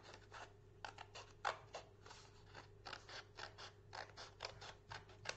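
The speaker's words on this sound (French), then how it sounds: "Je coupe ma diagonale." Scissors cut a diagonal through paper for a lidded box, a close, quiet series of crisp snips in a steady rhythm, with no talk.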